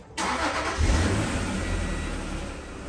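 A first-generation Acura NSX engine runs close by, starting from near silence with a sudden rise, a brief rev swell, then settling into a steady idle.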